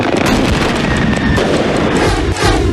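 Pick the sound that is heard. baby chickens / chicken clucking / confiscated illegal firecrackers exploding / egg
confiscated illegal firecrackers exploding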